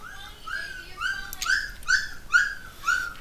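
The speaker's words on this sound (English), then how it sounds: "Oh, those puppies." Minecraft puppies on a Mineplex arcade server whine in a rapid run of six or seven high, rising yelps, close and fairly loud, with no talk over them.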